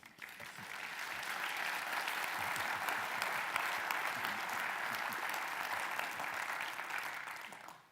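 A conference audience claps at the end of a keynote speech: steady, sustained applause from a sizable crowd that swells in quickly, holds for several seconds, then tapers off.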